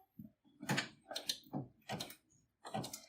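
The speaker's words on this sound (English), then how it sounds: "So I am going to go ahead and start stitching my blanket stitch." A sewing machine runs at a very slow speed, working a blanket stitch around a simple baby quilt, giving faint, uneven bursts of mechanical stitching with short pauses between them.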